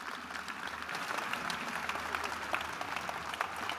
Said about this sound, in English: Come on, let's clap hands for Bruce Fordyce once more again